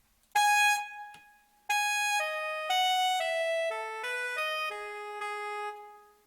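Synthesized notes played back in music notation software, a bright, bell-like tone sounding one long note, then a run of stepped triplet pitches, clean and electronic with no voices.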